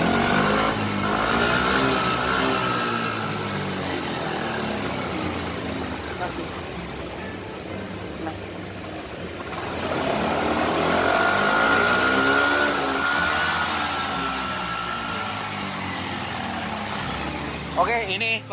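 A Yamaha NMAX scooter engine with a rough-sounding motor revs up close by, its drone rising and falling with the throttle, and a voice talks briefly at the end.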